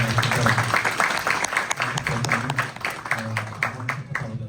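A church congregation claps for a youth group during a children's program in Oakland, with a steady wash of applause heard alongside a voice talking over it throughout.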